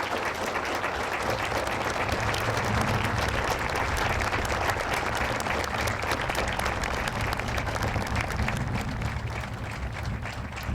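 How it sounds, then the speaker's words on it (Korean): Sustained applause from a large crowd fills an outdoor naval ceremony marking the decommissioning of the Korean submarine Jang Bogo, a dense, even clapping that continues throughout and eases slightly near the end. "다시 한번 큰 박수로 그동안의 노고를 치하해 주시기 바랍니다"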